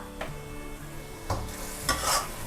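Sauce stirred and sizzling in a hot wok as fish sauce is added, with scraping strokes of a utensil every second or so over a steady frying crackle.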